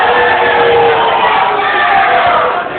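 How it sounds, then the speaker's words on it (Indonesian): A crowd at a regional election debate for regent and vice-regent candidates claps and cheers in a loud, sustained roar that fades slightly at the end, with scattered shouts over the din. "Kita beri tepuk tangan yang meriah,"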